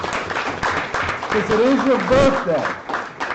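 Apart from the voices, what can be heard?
audience applause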